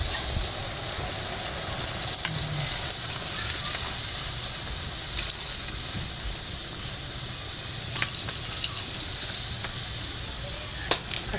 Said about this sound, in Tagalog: Ilagay po natin ang ating suka.